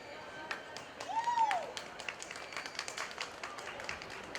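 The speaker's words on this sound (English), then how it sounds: "Give them a round of applause." Audience applause at a county fair market hog show, with scattered clapping under crowd noise and a whistle, moderate and continuous.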